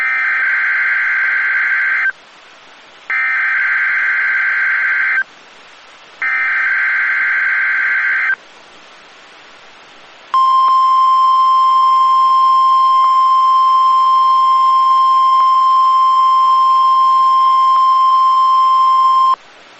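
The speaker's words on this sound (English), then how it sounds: "The following tones will conclude this test." A NOAA Weather Radio test broadcast from Honolulu, Hawaii, plays three loud, identical two-second EAS data bursts separated by short gaps, then a long, steady, piercing attention tone of about nine seconds, with no voices.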